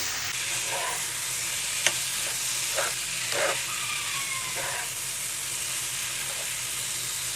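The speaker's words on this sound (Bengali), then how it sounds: "এই মাছটা মশলার সাথে ভালো করে কষিয়ে নেবো" Fried fish is stirred with spice paste in a pan, a continuous sizzle and hiss broken by a few scraping strokes of a spatula, close and without talk.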